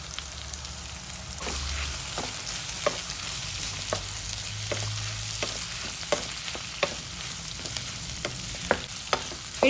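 Chopped chicken liver and gizzard frying in oil with onion and tomato, a steady close sizzle with repeated sharp clicks of a spoon stirring against the pan, no voices.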